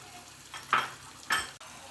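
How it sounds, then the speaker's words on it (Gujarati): Masala paste sautéing with onion and garlic in a pan, a soft low sizzle broken by two brief louder bursts of stirring, fairly quiet overall. "આ મસાલા પેસ્ટને આપણે ડુંગળી અને લસણ સાથે સરસ સાતળી લઈશું"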